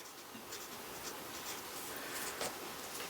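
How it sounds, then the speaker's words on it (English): Pen on a label writing a number, a close soft scratching that runs in short strokes for a few seconds, quiet and alone. "So I'm going to write my 129"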